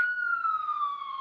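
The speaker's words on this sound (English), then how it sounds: "Ambulance." Ambulance siren on a New York street, a single steady wailing tone sliding slowly downward, faint and distant, heard alone without talk.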